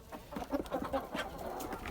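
Several hens cluck softly nearby in short, irregular bursts, a quiet murmuring chorus without any speech.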